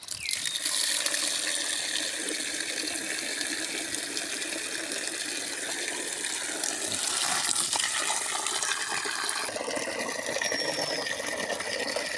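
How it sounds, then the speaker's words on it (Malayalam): Water runs and splashes continuously as black tamarind (kudampuli) is washed during home processing, a broad hissing gush with small clinks and changes in flow, close by and with no talking. "ഒന്ന് കഴുകി ഓരോന്നിടാം."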